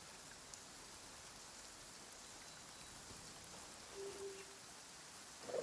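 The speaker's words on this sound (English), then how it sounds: "It's raining again?" Steady rain pattering in the Genshin Impact video game, a soft, even hiss of drops on surfaces throughout with a faint tonal blip near the end and no speech.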